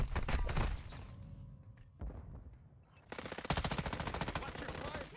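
Rapid automatic gunfire in the Call of Duty DMZ video game, dense bursts opening and closing the stretch with quieter gaps between, loud and close, with a voice talking over part of it.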